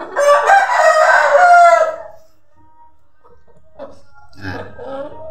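Chickens at a shophouse-style egg-laying nest box, with a loud, drawn-out crowing call up close, then a quiet gap and a few short clucks.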